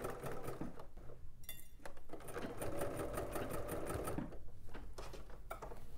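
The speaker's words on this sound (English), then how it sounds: "we're just going to baste down the band right along the stay stitches" A sewing machine runs steadily, basting down the band of a shirt dress along the stay stitches, a close continuous mechanical whir with a few faint clinks and no speech.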